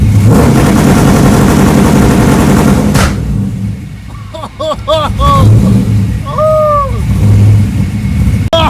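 A car engine fitted with a two-step launch limiter revs loudly and then pops and crackles in sharp bursts, close by, with people's voices mixed in.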